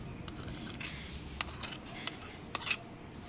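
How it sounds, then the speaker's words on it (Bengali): A spoon scrapes and clinks against a bowl while curd rice is mixed with a tempering, giving a few sparse, quiet metallic taps over a soft background. "এবার রাইসটার মধ্যে অ্যাড করে দিচ্ছি তরকাটা।"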